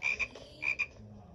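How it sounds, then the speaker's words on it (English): A frog croaking twice, each a short doubled rasping call, close and clear with no talking. "This is the sound a frog makes."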